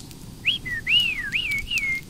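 A human voice whistles a warbling, swooping series of chirps and trills, imitating a robot droid, close and alone.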